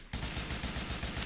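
Burst of AK rifle fire in the video game LCPDFR, a rapid automatic string of about eight close, loud shots that starts abruptly and runs evenly without pause.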